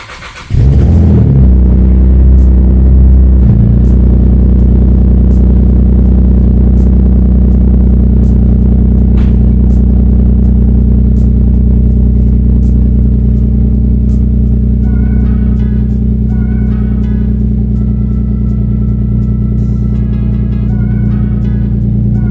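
A Toyota Supra with no silencer cranks and fires, then settles into a loud, steady, rumbling idle close by, continuing without a break and with no talk over it.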